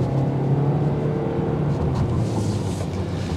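A 2024 Toyota Corolla Hatchback SE hums along at a steady cruise, with a low engine drone and road noise filling the cabin evenly.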